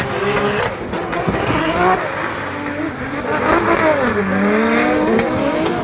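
Drift cars in tandem battle at a Drift Masters event in Ireland, engines roaring loud and continuous with revving swells and tyre noise, filling the whole stretch under commentary.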